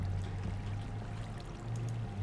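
Bucket of water being placed in Minecraft, a brief steady gush of pouring water that runs for a couple of seconds.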